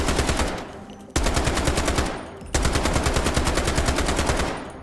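Sustained automatic fire from a Scar H rifle in the shooter game Delta Force, two long rapid bursts with a short break between them, loud and close, with no talking.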